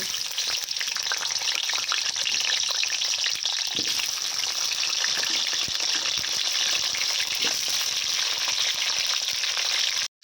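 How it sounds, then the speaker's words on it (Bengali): Papaya pieces frying in hot oil for a mutton curry, a loud, steady, dense sizzle that continues unbroken close to the pan. "প্রথমেই কিন্তু আমি পেঁপেগুলো ভেজে নেব"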